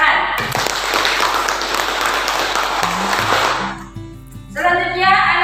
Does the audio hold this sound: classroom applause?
yes